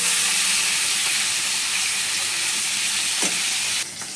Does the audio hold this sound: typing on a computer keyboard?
no